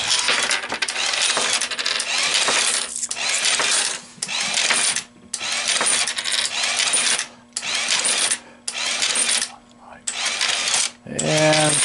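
Dimes tumble through a Conlux CCM-5 tube vending coin mechanism in repeated bursts of close metallic clinking and whirring, separated by brief pauses, ending with a mechanical buzz.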